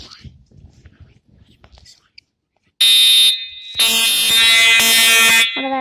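An airport voice-evacuation fire alarm sounds after soft whispering, a loud high electronic tone that switches on abruptly, pauses briefly, then returns at full strength with a harsh layered buzz.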